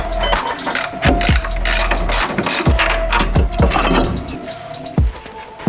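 Ratchet loosening the hub nut on a B-Series Ford Falcon front wheel hub, making rapid metallic clicks in short repeated bursts with a faint mechanical hum underneath, close and with no talking.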